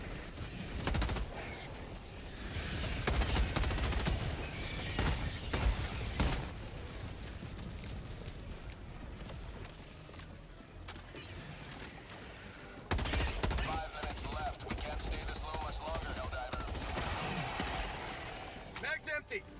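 Rapid bursts of Viper Commando weapon fire in Helldivers 2 against bugs, loud and close in repeated volleys with short gaps, a lull midway, then renewed shooting; a voice talks over parts of it.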